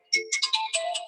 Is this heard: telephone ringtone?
yes